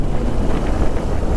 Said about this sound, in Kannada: ಅದು ತಣ್ಣಗೆ ಗಾಳಿ ಬರ್ತಾ ಇದೆ.